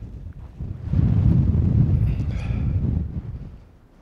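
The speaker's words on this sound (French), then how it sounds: "Là, il y a un petit vent bien froid, bien sec." Cold, dry mountain wind buffets the microphone on a hike near the Col de Pal in the Mercantour, a low rumbling gust that swells after a second, holds, then eases off near the end; no talk.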